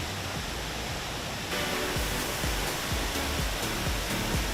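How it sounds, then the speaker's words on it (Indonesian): Curug Sodong waterfall roars with a strong, heavy flow of water, a loud unbroken rush that swells even louder partway through, with no voices. "Gak heran deh, limpahan airnya ini sangat deras."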